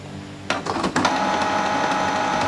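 A Canon Pixma G3010 ink tank printer runs its ink setup cycle, starting with a few sharp mechanical clicks and knocks and then settling into a steady whirring mechanism noise.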